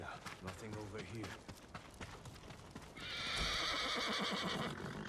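A horse in the video game Ghost of Tsushima whinnies loudly and gallops, its hoofbeats running under the speech of game characters.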